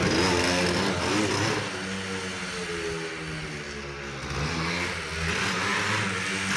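A Yamaha DT125 two-stroke motorcycle engine, a barn find rebuilt from two bikes, runs nearby, buzzing with a raspy, uneven note that dips and rises slightly as it idles and revs.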